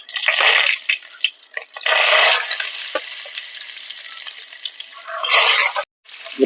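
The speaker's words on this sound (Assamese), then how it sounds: "এতিয়া পটলখিনি গৰম তেলত ভাজি ল'ম।" Masala-stuffed pointed gourds fry in hot oil, giving loud sizzling bursts that swell and fade as the pieces are stirred, close and without speech.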